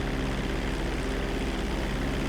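An airliner climbing out after takeoff in the video game GTA V drones with a loud, steady engine roar that stays constant throughout.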